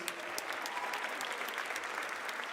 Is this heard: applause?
yes